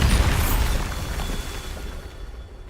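A Bombarda spell explodes in the Hogwarts Legacy video game, a loud, broad blast at the very start whose rumbling body fades steadily away over a couple of seconds, with no voices over it.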